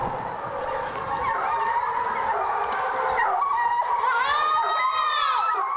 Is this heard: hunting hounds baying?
yes